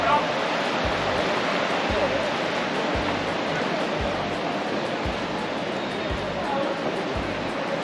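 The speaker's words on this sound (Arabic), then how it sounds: "هون حائط دار الدباغة، هون هذا النهر ماشي" A polluted river flowing past an old tannery wall in Fes, a dense, steady rushing of water close by that drowns out all else, with faint regular low thumps underneath.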